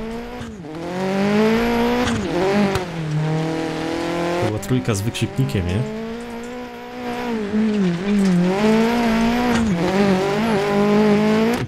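A rally car engine in the video game Dirt Rally 2.0 revs and shifts continuously with tire noise, rising and falling in pitch, while someone talks over it.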